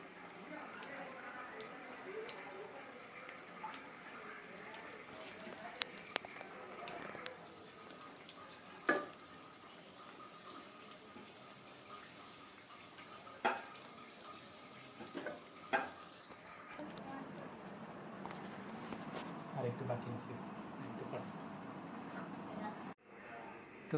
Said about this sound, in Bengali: এবার একটি কড়াইতে পর্যাপ্ত পরিমাণ তেলে পিঠাগুলো ভেজে নিতে হবে